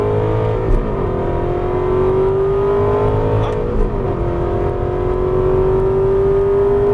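An Aston Martin V8 Vantage S engine accelerating hard on a race track, a loud, sustained rising roar with the pitch climbing steadily through the gears, a brief dip near the middle and a short spoken word under the engine.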